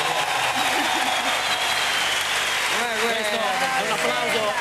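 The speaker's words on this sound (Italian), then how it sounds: "si becca l'applauso" A studio audience on an Italian television show applauds steadily throughout, a dense, loud clapping wash with voices talking over it.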